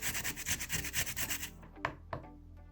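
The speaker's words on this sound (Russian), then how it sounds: "Натрем пару зубчиков чеснока." Rapid rhythmic scraping of a couple of garlic cloves against a fine grater, close and steady, then stopping with two light knocks afterward.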